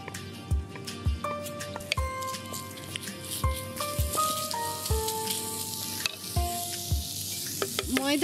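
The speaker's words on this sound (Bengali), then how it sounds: "ঘিয়ের সঙ্গে একটু ভাজা ভাজা হবে।" Food sizzles and fries in ghee in a pan, with a spoon knocking and scraping against the vessel at an irregular rhythm while it is stirred, close and fairly quiet.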